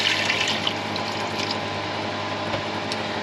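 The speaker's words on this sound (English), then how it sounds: "Now we've got our broth, and we're going to just do a little bit at a time." Broth being poured a little at a time into a pan of risotto, giving a steady, continuous watery pour close by, with no speech.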